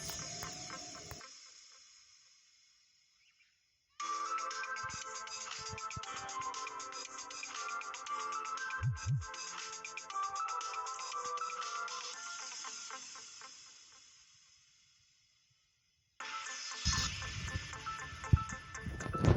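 Instrumental music track playing at moderate level in sections with a quiet gap near the start and a pause before a louder return near the end, no voices over it.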